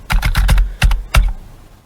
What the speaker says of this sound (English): I get so stressed of this typing